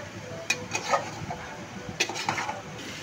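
Bottle gourd peel frying in a pan, with a low sizzle under a few scattered scrapes and clinks of a spatula against the pan, fairly quiet and close.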